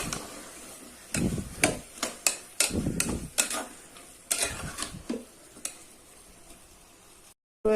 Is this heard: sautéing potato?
yes